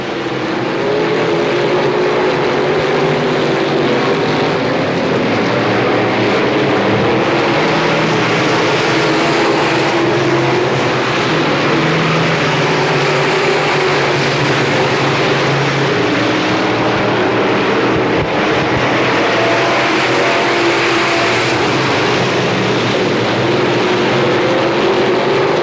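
Late model race cars roar around Pennsylvania Motor Speedway in a 1993 York Limited Late Model heat race, a loud, continuous engine drone with shifting pitch that never lets up.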